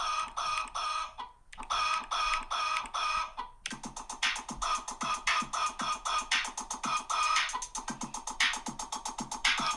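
Backyard chickens cluck in rapid, overlapping bursts with a rooster crowing among them, played back as a steady, fairly loud barnyard chorus with a brief pause early on.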